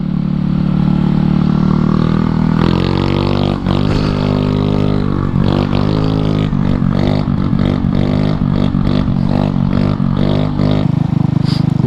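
A two-stroke Honda Elite stunt scooter engine and exhaust, ridden and loud throughout, with a steady rasping drone that breaks into repeated revving pulses and throttle blips.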